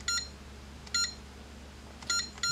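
Short electronic beeps come from a GE Concord alarm panel keypad when the star key is pressed: four quick, clear tones spaced across the moment over a quiet room hum, with no voices.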